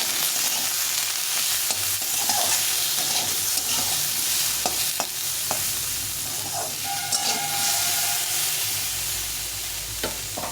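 Mustard greens fry in a pan with salt and turmeric, giving a steady, close sizzle throughout with occasional stirring scrapes and a brief hiss of steam.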